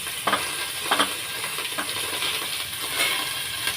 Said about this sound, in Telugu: అల్లం పేస్ట్ అది వేగాలన్నమాట.